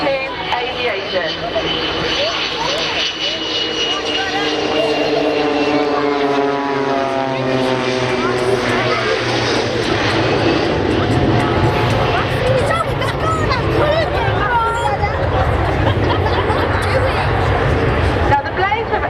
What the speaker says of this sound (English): the Blaze have escorted the 727 in